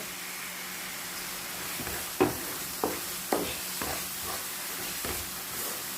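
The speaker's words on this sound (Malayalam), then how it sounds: "തേങ്ങ നല്ലോണം ഇത് കിടന്നൊന്ന് ഇളക്കട്ടെ" Roasted grated coconut stirred into a simmering tamarind fish curry, a soft low bubbling hiss with several sharp spoon scrapes and taps against the pot.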